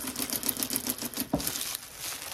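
A sewing machine stitching elastic runs in a quick, rhythmic burst of soft needle taps, then stops abruptly; quiet and close.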